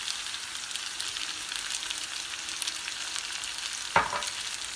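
Pasta and black zucchini sizzling in a pan over low flame while being stirred, a steady close frying hiss with a brief clink of the spoon against the pan near the end, no talking.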